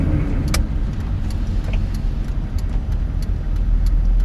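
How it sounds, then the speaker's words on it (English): A Chevy Silverado pickup truck runs nearby with a loud, steady low rumble, with faint metallic jingles and clicks over the engine drone. "This is a Chevy Silverado."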